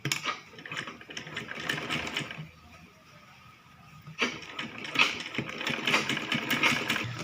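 A sewing machine stitches a kids' lehenga in two close, steady runs with a brief quieter pause between them, its motor whirring and needle chattering.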